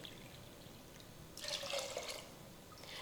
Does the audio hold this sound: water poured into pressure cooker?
yes